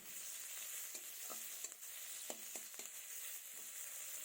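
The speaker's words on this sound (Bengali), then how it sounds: "এবার দিয়ে দেবো পেঁয়াজ কুচি। পেঁয়াজগুলোকে হালকা লাল করে ভেজে নেব।" Chopped onions fry in hot oil with a soft, steady sizzle, punctuated by a few light scrapes and knocks of stirring in the pan.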